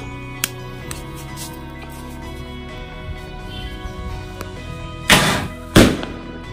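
A paper sound cracker goes off outdoors at a pyro park after several quiet seconds, giving a loud, sharp blast with a second close crack right after it.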